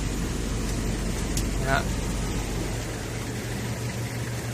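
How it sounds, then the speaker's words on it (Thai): Rear air conditioning in a car blows at full speed, making a loud, steady, even rush of air that continues for the whole stretch. "แอร์หลังสามารถเร่งได้เต็มที่เลยนะฮะ"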